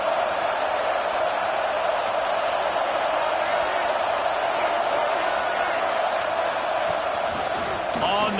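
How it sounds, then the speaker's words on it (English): In a football video game, a home crowd keeps up a loud, steady roar that fills the whole stretch without letting up. "Man, this crowd really affecting the football game."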